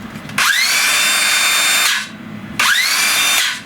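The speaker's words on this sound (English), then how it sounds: "to use a DeWalt battery in this old Makita tool" An old Makita cordless power tool running on a DeWalt battery through an adapter whirs loudly in two bursts, each spinning up with a rising whine, holding steady for over a second, then winding down with a short pause between.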